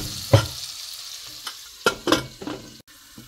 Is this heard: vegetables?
yes